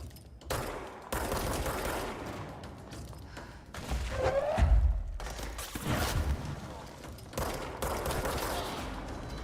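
Bursts of gunfire from the video game Control, rapid shots clustered in several dense volleys with heavy thuds, mid-loud and steady across the stretch, with faint game sounds between.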